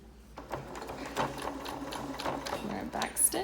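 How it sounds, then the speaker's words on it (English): A sewing machine stitching a fabric face mask with ribbon ties, its steady mechanical whirring running continuously at close range while a person talks over it. "And then we're just gonna sew the whole thing closed."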